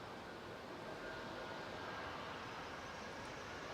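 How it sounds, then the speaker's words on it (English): A Ryanair Boeing 737 MAX 8 takes off from Manchester Airport, its engines a steady, distant broadband roar that holds even and unbroken, with no voices over it. "Ryanair departing now."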